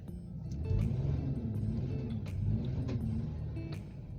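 Nissan Murano engine idling roughly with a P0335 crankshaft sensor fault, a steady low rumble with uneven surges and faint ticking, fairly close and heard alone.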